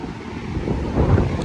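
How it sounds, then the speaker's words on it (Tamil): Strong air blasts from cooling fans, a steady rushing roar that buffets the microphone with low rumbling gusts throughout. "சரியான காற்று, எல்லாம் ஃபேன் கொடுத்துருக்குறாங்க இதெல்லாம் கூல் பண்ணுறதுக்கு"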